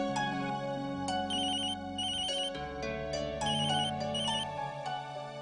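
A phone ringtone plays after a call is placed, a loud melodic electronic tune cycling through repeating phrases with no speech.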